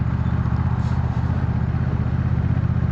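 A 2025 Honda NT1100 DCT motorcycle, ridden two-up, with a steady, loud mid-low engine drone close by as it pulls through the gears with no talking.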